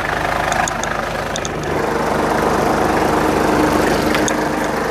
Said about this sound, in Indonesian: Tak bukakan mesinnya. Ini sudah panas mesin nih.